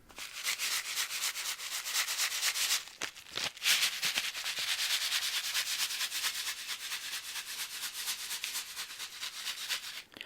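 Close, soft rubbing and scratching on a package surface, a steady rhythmic brushing with a few brief crinkly bumps, no voices.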